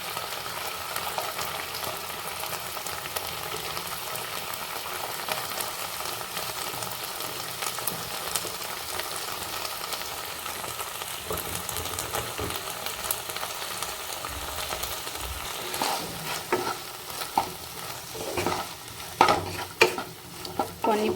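Tomatoes and chopped vegetables sizzle in a pan for ragi upma while a spoon stirs them, a soft continuous frying hiss broken by scraping and clinks that grow busier toward the end.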